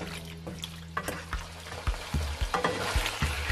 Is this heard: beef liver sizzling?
yes